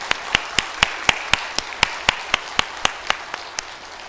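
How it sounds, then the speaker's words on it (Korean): Church congregation clapping for a choir, a slow, even rhythm of about fifteen loud, sharp claps in unison, alone with no talk. "우리 함께 하나님께 영광의 박수 올려드립니다"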